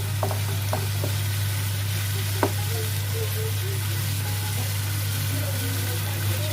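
Salmon pieces fry in a pan for a fish curry, giving a steady, dense sizzle with a few sharp clicks and scrapes on top, close and even throughout.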